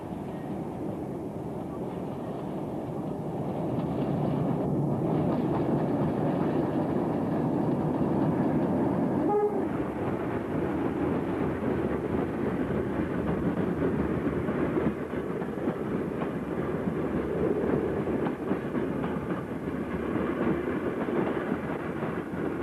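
A British Rail Class 76 locomotive rumbles past Penistone on the Woodhead Line hauling a long rake of empty steel wagons, a steady heavy roar with wheel clatter that holds loud throughout.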